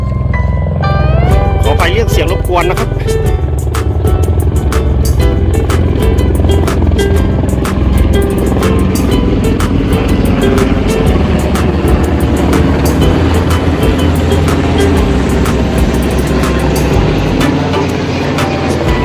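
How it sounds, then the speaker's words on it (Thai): A loud aircraft roar passes over a fishing pond, filling the whole stretch with a heavy, continuous engine drone and rising and falling whines. "มีเครื่องบินขีปนาวุธบินผ่านหนองปลาไหลวิวนะครับ"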